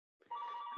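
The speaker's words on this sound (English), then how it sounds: "excuse that phone that's ringing behind me." A telephone rings in the background of a golf podcast recording, a short, steady electronic ring with a sustained tone that holds after a brief onset, fairly faint and with no talk over it.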